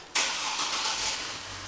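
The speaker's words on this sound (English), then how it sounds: "Let me start the car." A 2005 Chevrolet Trailblazer engine cranks and catches after an exhaust manifold installation, with an abrupt loud burst settling into a steady, rough running roar for the rest of the moment, with no voices.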